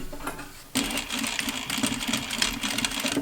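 A sewing machine stitches over plastic boning on an 18th-century dress bodice: a brief quiet pause, then a fast steady mechanical whirring and clatter of the needle, close and alone.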